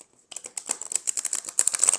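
A Light Seers tarot card deck being shuffled, a rapid run of crisp riffling card flicks starting after a brief silence, close and fairly loud with no talking.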